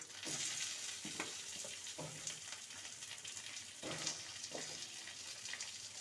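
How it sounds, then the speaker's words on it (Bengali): Radish, carrot and potato pieces fry in a pan with a continuous close sizzle, while a spoon stirs them in a handful of distinct scraping, clattering strokes. "সবজিগুলোকে নেড়ে নেব"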